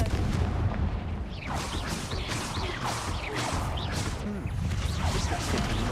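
Repeated blasts from the Confringo fire spell in Hogwarts Legacy, loud booming impacts with whooshing bursts in close succession over a dense battle din.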